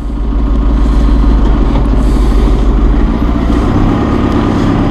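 A 2011 John Deere 5101E utility tractor runs in gear, its diesel engine a loud, steady, close low rumble throughout with a slight shift in tone near the end, no voices.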